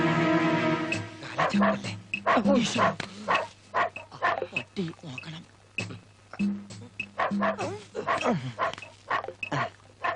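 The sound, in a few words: man imitating a dog barking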